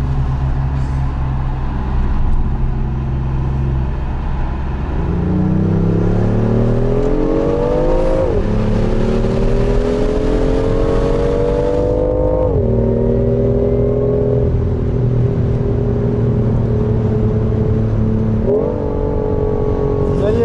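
Sports car engine on a road rally revving up through several gears, pitch climbing then dropping at each shift, loud and close with a steady rumble underneath.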